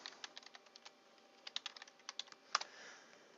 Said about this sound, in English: Type in FTP : / your IP address, and then hit enter.